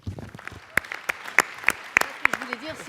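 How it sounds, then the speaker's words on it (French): Audience applause at a round-table conference session, a brief spell of close sharp claps from a few people that thins out, with a voice speaking under and after it. "je vous propose de l'applaudir."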